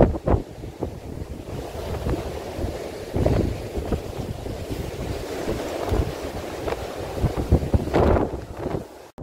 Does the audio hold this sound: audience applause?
no